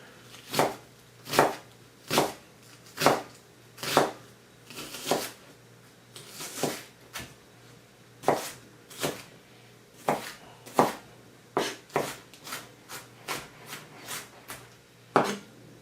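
A knife chops a quarter of an onion on a board for fire-roasted salsa, sharp distinct cuts in an uneven rhythm, about a dozen and a half strikes, close and clear with no talking.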